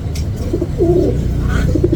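A soft, low cooing from a nearby bird, a short throaty call over steady background noise.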